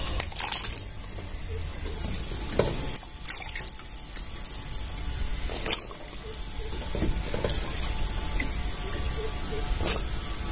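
Washed papaya pieces for homemade tutti frutti are dropped into a pot of hot water on the stove, giving a few soft splashes and light clinks against steady kitchen background noise.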